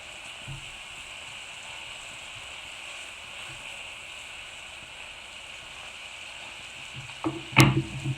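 Food fries in a pan while apple glazed pork chops are being cooked, a soft, even sizzle that runs steadily until a brief clatter of handling near the end.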